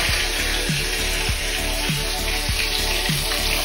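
Onions hit a hot pan in a North Indian chilli paneer dish and sizzle in a dense, steady hiss, with faint rhythmic clinks and scrapes repeating underneath, close and without talk.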